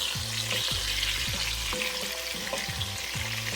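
Chicken, shrimp and andouille sausage for jambalaya sizzle steadily in a frying pan as they brown, a close, continuous crackle with the low hum of a kitchen appliance underneath.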